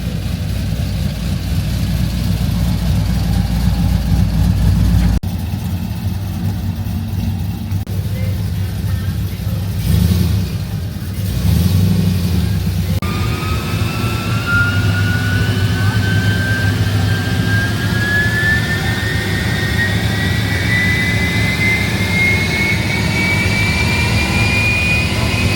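A Chevrolet C10 truck with a naturally aspirated 5.3 V8 at an autocross event, its engine droning loudly and steadily, then climbing in pitch as it revs up and pulls away, with people talking in the background.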